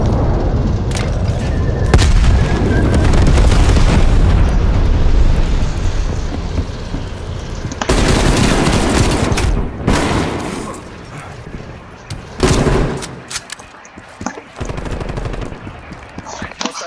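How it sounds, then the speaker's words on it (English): Heavy bursts of explosions and rapid gunfire from a napalm strike in the Cold War-era shooter game Call of Duty Black Ops Cold War, loud and dense with repeated booming surges over about seventeen seconds. "Enemy napalm strike incoming."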